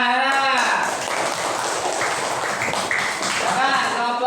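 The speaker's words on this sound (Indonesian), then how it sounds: "Ya, tepuk tangan. Anak." A fourth-grade class of children in an elementary school room clap together briefly, tapping hands under a teacher's voice that dominates the scene.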